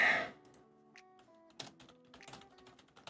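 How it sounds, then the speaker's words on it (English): Quiet, scattered clicks and taps of typing on a computer keyboard follow a brief burst of louder noise, with soft background tones lingering underneath. "My typing's not what it used to be."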